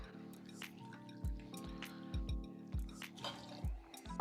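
Pear vodka, 2.5 ounces, poured into a bar measure, heard as faint close drips and a thin trickle of liquid with small splashes, quiet and alone.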